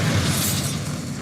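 A Bombarda blasting spell detonates in Hogwarts Legacy, a single loud crashing burst with a shattering, debris-like wash that fades over about a second.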